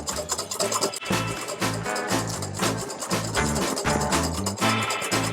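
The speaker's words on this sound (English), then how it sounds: "I'm just going to slowly whisk in this butter mixture." A whisk beats butter into hollandaise sauce in a bowl set on a tea towel, giving a close, rhythmic scraping and swishing that repeats steadily throughout, with no voices.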